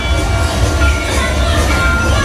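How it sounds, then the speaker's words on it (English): A theme park ride train at Disney's Hollywood Studios rumbles steadily close by as it arrives, a low continuous rolling drone with rail noise and no distinct clatter, without voices. "Here comes our train."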